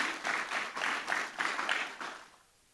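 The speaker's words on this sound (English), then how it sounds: "Give him a round of applause as he comes on stage." A conference audience at the Africa Climate Investment Summit 2025 applauds a speaker coming on stage in swelling waves of clapping for a couple of seconds, then the sound fades away.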